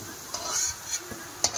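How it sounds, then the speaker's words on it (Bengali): Potato pieces frying in hot oil in a home kitchen, a soft continuous sizzle broken by a few sharp clicks and scrapes from stirring. "আলুগুলো ভালো করে ভেজে নেব।"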